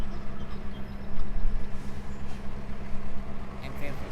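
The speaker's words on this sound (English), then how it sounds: "And there's a CN train here" A CN freight train rolls past a rail line at Chartwell Road in Oakville as a loud, continuous rumble and roar with rail noise, steady throughout.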